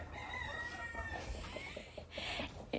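Hens in a chicken coop, some sitting on eggs, keep up a steady stream of clucks and crowing-like calls, with a sharper call near the end, close by and without talk.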